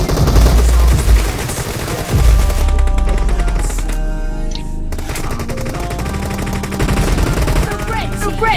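Automatic rifle fire in Battlegrounds Mobile India during team deathmatch on an iPhone 11 Pro, continuous rattling bursts with a brief break near the middle, loud and close, with game music beneath.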